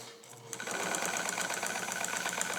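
A restored Necchi Supernova BF sewing machine running a long length stitch through six layers of fabric, starting after a brief quiet moment into a steady, loud, rapid mechanical whir with rhythmic needle clatter that continues to the end.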